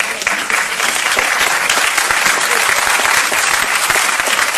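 Audience clapping after a speech, a dense, steady burst of many hands clapping together at close range that holds evenly for the whole few seconds.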